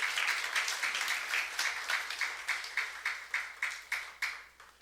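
A church youth congregation claps together in applause, a dense, rhythmic, close wave of hand claps that gradually loosens into distinct, evenly spaced beats toward the end.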